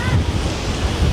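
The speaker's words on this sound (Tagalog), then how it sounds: "Yan, yung may hangin. May hangin pati oh." Wind gusting outdoors during a photoshoot, a steady low rumble of buffeting air on the microphone, like surf, running through the whole moment.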